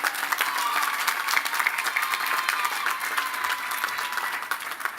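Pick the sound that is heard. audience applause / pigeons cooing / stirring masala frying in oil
audience applause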